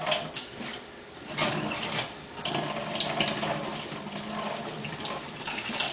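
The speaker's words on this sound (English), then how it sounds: "And then you just need to rinse it off, or drain it." Running tap water pours steadily into a kitchen sink while food is rinsed and drained, a continuous close splashing rush with occasional shifts in flow and no talking.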